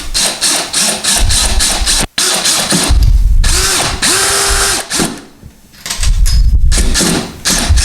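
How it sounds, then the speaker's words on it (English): A power drill drives screws to mount a towel rack on a tile wall, sounding in loud whirring bursts with short pauses, one sharp click and a ratcheting buzz near the end. "And now we'll screw these in."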